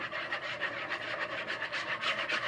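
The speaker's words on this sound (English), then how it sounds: "And you take your whisk and you whisk that around." A whisk beats a yeast-and-water mixture in a bowl, giving a steady, fast scraping swish that pulses rhythmically all the way through, close and alone with no talk.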